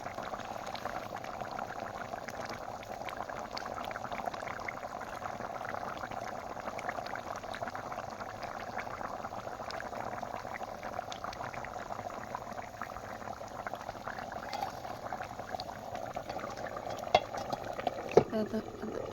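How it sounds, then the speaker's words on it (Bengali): Curry broth bubbling at a rolling boil in a cooking pot, a steady close simmering hiss and burble that carries evenly throughout with a brief clatter near the end. "ঝোলের পানি দেওয়ার পর হলো বলক উঠে গেছে"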